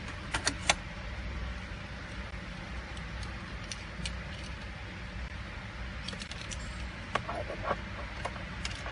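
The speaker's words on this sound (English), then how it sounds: "First, we need insert the original key to the car." An original key is inserted into a 2009 Mitsubishi Outlander, with a few sharp metallic clicks and jangles near the start and again later over a quiet, steady background hum.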